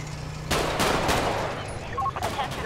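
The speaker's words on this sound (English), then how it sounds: "We're being shot at from everywhere." Gunfire in the video game GTA 5 during a police gang-unit shootout, with several sharp, loud cracks breaking over a dense, noisy background.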